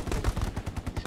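Rapid automatic gunfire from the World War II shooter Hell Let Loose on the Carentan map, a close, loud run of evenly spaced shots with no talking.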